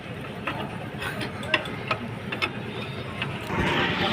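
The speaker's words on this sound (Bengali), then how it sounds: "18 নম্বর যে কুটি রয়েছে সেই কুটি দিয়ে কিন্তু লাটগুলো টাইট দিয়ে নিচ্ছি।" An 18 size socket wrench tightens nuts on a 12-horsepower engine, with repeated metallic ratchet clicks and small clanks close by, under a background engine hum and someone talking.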